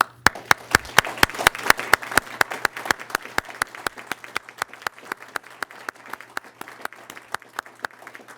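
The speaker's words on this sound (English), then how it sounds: "I applaud you for your service and ask the audience to join me." An audience at a state address by Wyoming's governor bursts into sustained applause, a dense run of claps that peaks early and then gradually thins out over several seconds.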